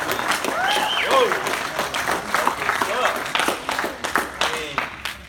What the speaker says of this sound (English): big round of applause for that, man